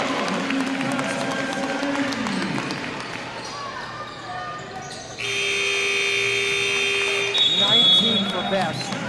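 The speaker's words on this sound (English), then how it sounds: "That's the buzzer. We're at halftime." A halftime buzzer sounds at a high school basketball game between Tualatin and Jefferson, a loud sustained electronic tone cutting in midway and holding for several seconds over crowd noise, with a commentator talking before it.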